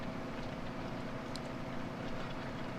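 A Big Bud tractor in Farming Simulator 17 pulls plowing equipment across a field, giving a steady, continuous low engine drone at moderate level with no talk over it.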